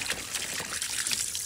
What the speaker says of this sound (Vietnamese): Rửa qua cái bình nước thì để nó bẩn quá.